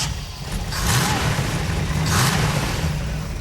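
A freshly built, never-fired engine in a 1969 Camaro catches and runs with a loud, rough roar, swelling in two revs over a steady idle.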